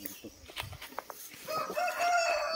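Short chicken clucks at first, then a louder drawn-out call like a rooster crowing, all close by with no talking.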